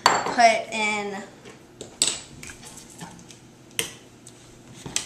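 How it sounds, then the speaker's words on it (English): A utensil beats flour mixture into batter in a bowl, making sparse clinks and knocks against the bowl, with a brief voice at the start and otherwise no talk. "you're going to beat in your flour mixture"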